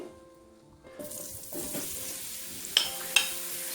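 Mushrooms hit hot olive oil in a skillet and start a steady sizzle, with stirring scrapes and two sharp clacks of the utensil against the pan near the end; no talking.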